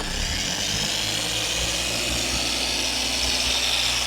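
A polishing machine buffs a motorhome's bodywork at low speed, giving a steady, close, unbroken whirring drone.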